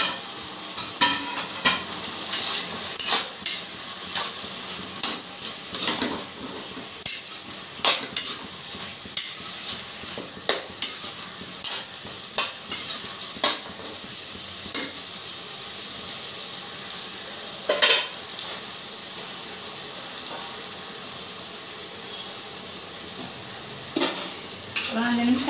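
Tomatoes sizzle and fry in a pan for a shrimp, cauliflower and butter bean curry, with a steady soft hiss and frequent sharp scrapes and clinks of a spoon stirring against the pan.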